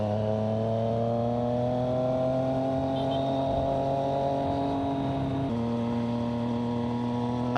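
A classic-style motorcycle engine runs steadily and loud up close, its harmonic drone holding a constant pitch with a slight step in tone partway through, with no talking over it.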